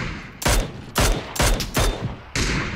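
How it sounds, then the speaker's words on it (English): Bursts of gunfire from the battle-royale game PUBG, with five loud, sharp volleys spaced through the stretch, each firing a fast rattle of rounds in a heavy, close exchange. "Wait, he's shooting someone to the left."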